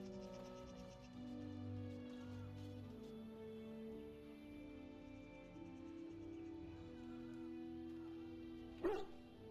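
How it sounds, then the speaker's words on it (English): A dog in Dragon Age: Origins barks excitedly near the end, a single close yelp rising over a soft bed of sustained game music with no talk. "He barks excitedly."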